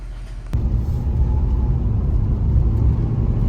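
A Ford Escape with freshly replaced coils and spark plugs idles close by, a smooth, even low rumble that holds steady after a brief click.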